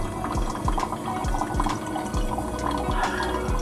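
Water from a WaterMax reverse-osmosis purifier with UV filter pours steadily into a container, a continuous splashing stream with repeated gurgling drips rising in pitch as it fills.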